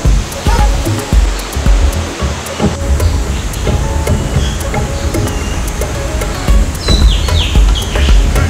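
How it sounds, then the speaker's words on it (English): A waterfall in Bali gives off a loud, continuous broadband rush of falling water that fills the whole scene, with a few scattered clicks on top. "We are done at the waterfall."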